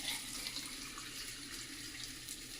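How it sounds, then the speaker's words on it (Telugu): Water runs into a pot of rice being prepared for chicken bagara, a faint, steady tap-like stream with light splashing throughout. "ఎన్ని బియ్యం పోసినామో దానికి డబల్ వాటర్ పోయాలి."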